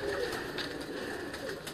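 Tosi breed pigeons coo softly and steadily on a rooftop loft in Lahore, a continuous low murmur with no voices over it.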